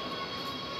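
A street tram passes in Bremen's old town, a steady brief rumble with a faint whine, close and continuous.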